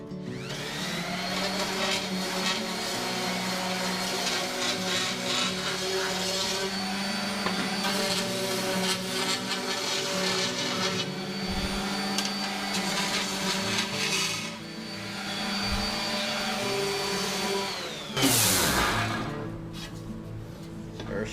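A power tool cuts through a scrap aluminum sheet for a boat's front deck, giving a loud, continuous whirring grind that holds steady for about twenty seconds with a brief surge near the end and no talking.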